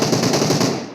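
Dense rapid automatic gunfire from a shooting video game in a final-zone mountain battle, a loud continuous burst of shots that fades out near the end, with no talk.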